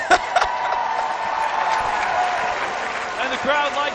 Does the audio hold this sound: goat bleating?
no